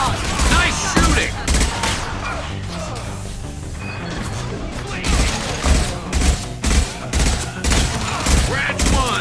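Gunfire in the video game Mass Effect 2, loud close bursts of automatic shots and impacts, building into regular sharp reports toward the end, with a voice briefly heard under the firing.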